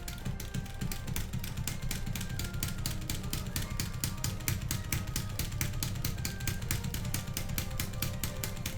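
Rapid, steady clicking of hitbox arcade controller buttons being hammered in a fast, even rhythm while wavedashing in Tekken 8, close and continuous throughout.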